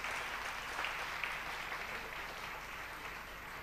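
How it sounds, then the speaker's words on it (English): An audience at a college convocation and graduation ceremony of the Marathwada Mitra Mandal gives a soft, steady round of applause that sounds somewhat distant and continues evenly throughout. "Can we have a round of applause, please?"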